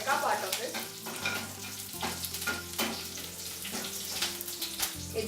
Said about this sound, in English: Once our mustard gets cracked, we add curry leaves.